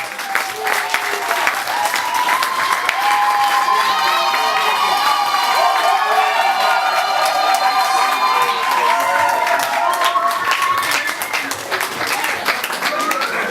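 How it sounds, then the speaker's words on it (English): A crowd at a 50th birthday celebration breaks into loud, sustained applause with cheering and excited shouts, including children's voices, filling the room continuously for over ten seconds. "I want you all to give a very, very big round of applause for this"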